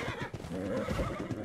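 A horse in the survival game Scorched Earth neighs in a short, loud whinny with some clip-clop steps, heard up close with no talk over it.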